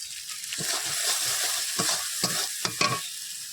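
Curry with turmeric and salt being stirred in a pan, several quick scraping stirs over a soft sizzle, close up.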